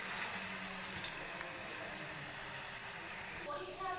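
Vegetable pakoras deep-frying in hot oil, giving a continuous even crackle and fizz with fine bubbling throughout at moderate loudness.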